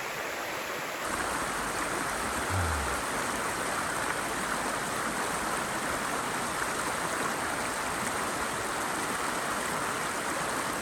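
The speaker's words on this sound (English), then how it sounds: "I'll often sit by the water and listen." A mountain stream flows steadily nearby beside a summit trail, making a constant, even rush of water that fills the whole stretch with no voices.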